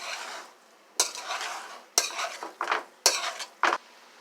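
Drained noodles and chicken tossed together in a pan, four sharp scraping strokes of a utensil at roughly one-second intervals over a soft background sizzle, no talking.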